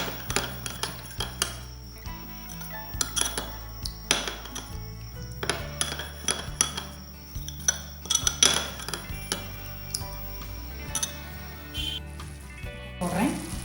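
Besan batter for Marwadi gatte being mixed in a pan, with repeated close clinks and scrapes of a utensil against metal and glass at an uneven rhythm, alongside background kitchen clatter.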